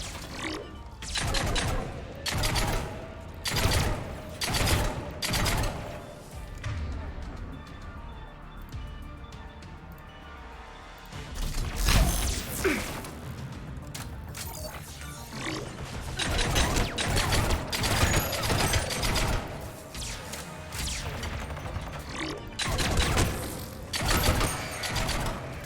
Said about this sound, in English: It's setting up turrets.